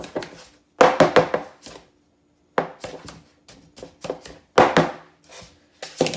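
Cake pans filled with vanilla cake batter are rapped against a kitchen counter in short clusters of sharp knocks, separated by brief pauses, close and distinct with no talking.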